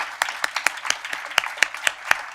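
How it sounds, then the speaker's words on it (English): Scattered clapping from a conference audience at an opening session, a few sharp individual claps spaced irregularly and fairly close, sparse rather than a full ovation. "A special applause for the incredible hard work"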